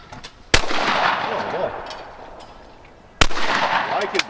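Two loud shotgun blasts boom at a sporting clays tournament, the second coming about two and a half seconds after the first. Each close, sharp report decays into a short echo.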